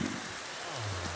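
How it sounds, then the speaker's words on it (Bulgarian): Steady rain hisses evenly in a Minecraft survival game, with a low tone shifting underneath and no voices. "Малко е гадно, че и вали дъжд."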